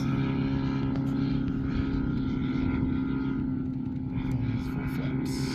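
A giant scale RC F8F Bearcat model plane flies after a repair, its engine giving a steady, continuous drone with a strong harmonic hum that stays fairly constant throughout, with no one talking.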